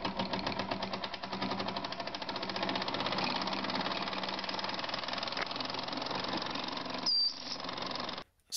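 A small model steam engine drives a paddle wheel through little wooden gears, giving a steady, fast mechanical chatter that runs evenly for about eight seconds and then stops abruptly.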